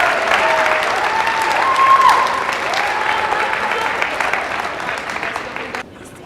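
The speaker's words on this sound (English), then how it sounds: "So an extra round of applause for them and for all the 5th graders" An audience at a spring school band concert claps for the 5th grade band, a dense sustained round of applause that gradually thins and fades out near the end, with a few voices mixed in.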